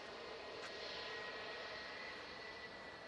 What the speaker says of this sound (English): Heard them wonderful engines fire up from the 777 then.